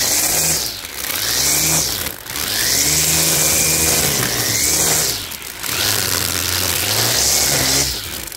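A petrol grass trimmer whines close by, its engine rising and falling in repeated surges as it cuts through weeds.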